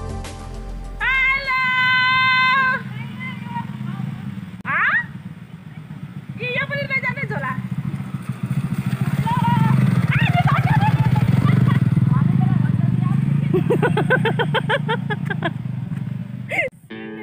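A motorcycle on a road in Udayapur, Nepal hums with a low, steady engine drone that grows louder midway, heard under people talking and a few sharp tonal calls.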